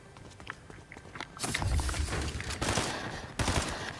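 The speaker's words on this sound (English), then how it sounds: "Where is this shooting coming from?" Bursts of Fortnite gunfire crackle in rapid volleys, swelling loud midway through and hitting again near the end, with footsteps and game noise underneath.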